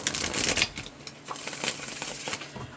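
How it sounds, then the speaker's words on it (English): Tarot cards, some of them burnt at the edges, are shuffled by hand in a few quick riffling bursts, close and fairly soft, with brief pauses between. "And why am I shuffling again?"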